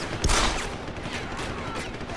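Rapid gunfire aimed at a boss in the video game Deus Ex: Human Revolution, a dense burst of shots swelling early then continuing as a steady rattling barrage, loud and close with no talk over it.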